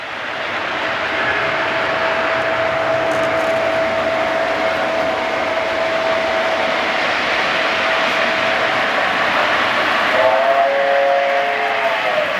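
A Santa Fe model train pulling ambassador cars runs along a club layout, giving a steady loud mechanical hum and rolling whir that continues unbroken, with a brief warbling whine near the end.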